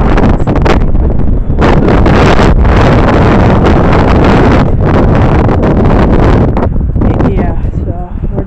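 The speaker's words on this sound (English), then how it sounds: "it is very windy out here" Strong wind buffeting the microphone in loud, roaring gusts throughout, with rustling and turbulent rumble, briefly easing before surging again.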